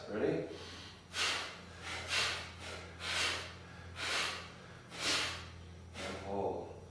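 Kapalabhati breaths in a yoga teacher training class: about seven sharp, forceful exhales through the nose, roughly one per second, close and fairly quiet.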